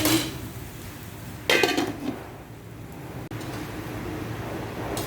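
A metal lid set down over a cooking pot of pechay and sardines, giving a short clattering clink of cookware midway through, with quiet kitchen background before and after.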